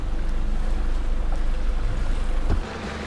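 A 4WD vehicle fords the shallow, pothole-strewn water of Birdie Creek on a firm rock bottom, giving a continuous churning, splashing rumble that drops away slightly near the end.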